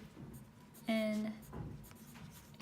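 Someone writes on a board during a math lesson on line plots, with a short squeaky marker stroke and faint scratching of writing, and a voice talking softly underneath.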